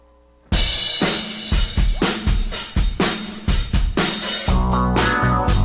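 Live band in a studio concert playing a song, starting suddenly after a quiet moment with strong rhythmic drum hits and sustained instruments, loud and close.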